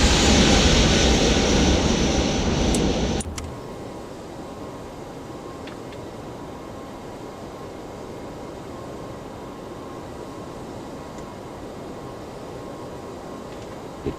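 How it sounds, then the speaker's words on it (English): A light aircraft climbs out of Milwaukee on a live flight toward Atlanta, its engine roaring loud and steady for a few seconds before dropping to a quieter, even cabin drone that holds to the end. "We're now airborne."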